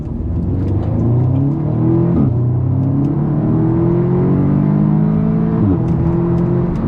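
Audi S3 driving and accelerating, the engine note climbing steadily in pitch through the gears with brief dips at each shift, loud and close from inside the car.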